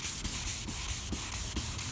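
Steady rhythmic rubbing of polishing compound on a discoloured car headlight, close and fairly loud, with regular strokes about every half second and no talk.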